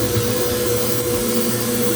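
An electric mixer with a whisk attachment runs on low speed, beating powdered sugar for chocolate peanut butter balls, giving a steady, continuous motor whir close by with no talking.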